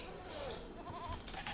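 Sheep bleat in an Age of Empires-style real-time strategy game, a short wavering bleat rising over a steady bed of game ambience.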